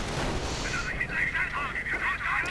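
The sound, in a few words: anti-tank gun firing and explosion in a strategy video game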